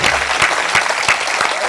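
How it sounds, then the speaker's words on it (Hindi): Loud audience applause at a Hindi poetry recital, a dense burst of clapping with sharp individual claps standing out, close and continuous. "जोरदार तालियां रमेश जी के गीत के लिए बजाएं।"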